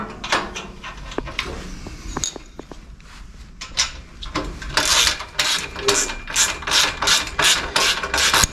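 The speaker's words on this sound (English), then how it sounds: "My ratchet screwdriver popped out of place. Come on, Milwaukee." Milwaukee ratchet screwdriver driving screws into a metal scaffolding kit during assembly, giving rapid clicking ratchet pawl ticks and metallic clanks, close and fairly loud, in irregular bursts that quicken toward the end.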